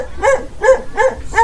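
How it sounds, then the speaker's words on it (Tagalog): A dog barks four times in a steady rhythm, each bark sharp and fairly close, carrying over a faint outdoor background on a ride past lighthouses. "May aso. Wala, may aso."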